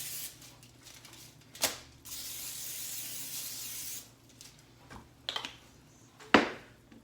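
Olive oil cooking spray is spritzed over flatbread in a pan with a few short hisses and a longer steady burst, plus light clatters between them and a low background hum.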